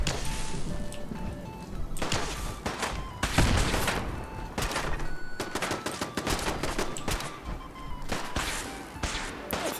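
Enemy gunfire in Fallout 4, repeated bursts of sharp cracks and rapid automatic shots in irregular clusters with short gaps, loud and close, with game sounds in between and no talk.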